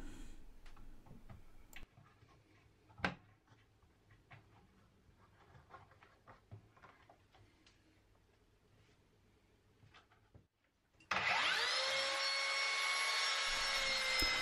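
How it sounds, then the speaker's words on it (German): A plunge saw starts up and runs loudly with a steady high whine, cutting wood at an angle along a guide rail, after a stretch of quiet clicks and knocks. "Ich mache das hier mit der Tauchsäge."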